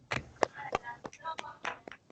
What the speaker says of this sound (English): I'm giving a clap.